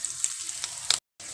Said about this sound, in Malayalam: അപ്പോൾ നമ്മുടെ ഉള്ളിയൊക്കെ നന്നായി മൊരിഞ്ഞ് വന്നിട്ടുണ്ട്